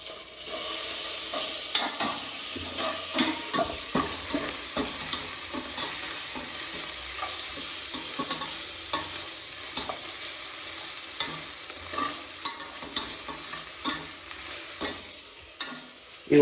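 Ginger garlic paste frying in a pan for bachelor-style chicken biryani, a continuous close sizzle punctuated by frequent sharp scrapes and clicks of a spoon stirring against metal.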